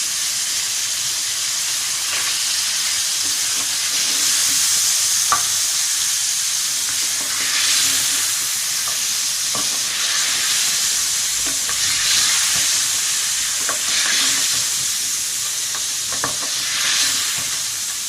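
Ginger garlic paste frying in a pan for dal gosht, a steady close hiss and sizzle running throughout with occasional light stirring clicks, no voices.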